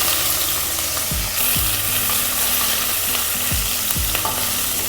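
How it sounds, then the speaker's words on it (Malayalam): Chopped onion fries in hot ghee with a dense, constant sizzle, broken by regular scraping strokes of a stirring utensil against the pan. "നമുക്കിത് ഒരു ഉള്ളി ചെറുതായിട്ട് അരിഞ്ഞിട്ട് അങ്ങ് ഇട്ട് കൊടുക്കുന്നുണ്ട്"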